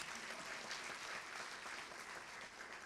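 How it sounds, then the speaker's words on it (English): Audience applause at a business awards ceremony, a steady dense wash of many hands clapping, moderately distant and continuous throughout with no talking over it. "And as a reminder, applause."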